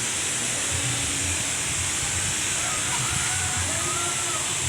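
A core drill runs steadily with water fed to the bit while boring through a concrete floor, making a continuous rushing hiss and a low mechanical drone that stays unchanged throughout.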